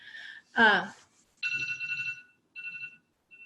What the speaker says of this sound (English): that's the alarm. And I obviously put it somewhere else.